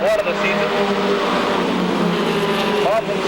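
Race trucks at Seekonk Speedway scream past on an oval, a loud, sustained engine roar with pitch sweeps as trucks pass near, while an announcer talks over the noise.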